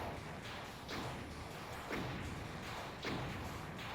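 The BFG weapon firing in the video game Touhou Doom, four heavy, muffled thumping blasts spaced about a second apart over a dense, noisy background.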